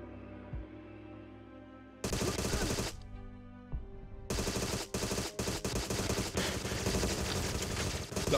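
Bursts of automatic gunfire in the video game Agent 64: Spies Never Die, loud dense volleys with a brief pause, then a long sustained stretch of rapid shots broken by short gaps.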